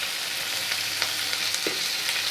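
Masoor dal with salt and turmeric being stirred in a hot pan, a steady frying sizzle throughout with a few soft scraping strokes of the spoon.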